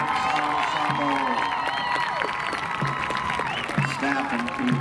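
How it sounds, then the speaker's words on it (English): Crowd applause and some cheering for a school performance ensemble at a band festival, clapping under sustained tones and a few voices calling out. "please give one more round of applause for the West Broward Performance Ensemble."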